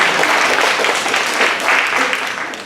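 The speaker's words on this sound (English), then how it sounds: "No, you can clap." Audience applause at a homelessness summit for Monterey and San Benito Counties, California: a steady, dense wash of clapping lasting a few seconds, fairly close, thinning slightly toward the end.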